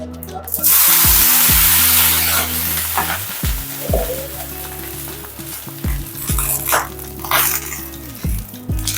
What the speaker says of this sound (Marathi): आणि पाण्याचा थोडा हप्का मारूया